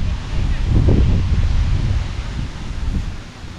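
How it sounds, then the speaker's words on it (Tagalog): Strong wind roars over crop plants in a field and buffets the microphone while foliage rustles, a dense low rumble that swells and eases throughout. "Sobrang lakas ng hangin."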